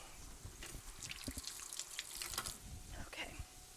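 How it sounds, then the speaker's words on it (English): A kitchen tap runs while hands are washed at the sink during cooking, a steady splashing stream with dribbles and small splatters, fairly quiet and close, with a faint voice briefly under it. "wash my hands real quick"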